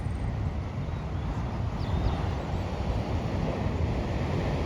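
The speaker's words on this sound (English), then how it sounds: "I do like the sounds of the waves" Ocean waves at Maroubra beach make a steady, broad wash of surf, moderately loud and continuous, with a faint bird call high above it and no talking.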